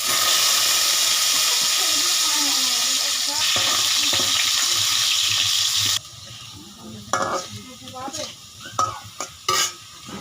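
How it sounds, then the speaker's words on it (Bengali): Potatoes fry in hot oil until reddened, a loud, dense sizzle with stirring scrapes that suddenly quiets, leaving sparser crackles and spatula clatter. "আলু সুন্দর করে আলুটা ভাজি করে নেব, লাল লাল করে।"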